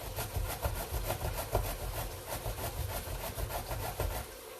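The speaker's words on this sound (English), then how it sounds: "I'm just going to give this a quick grate." Vegetables scraped over a hand grater in a kitchen while cooking chili give a fast, rhythmic rasping of repeated strokes, close up and moderately quiet.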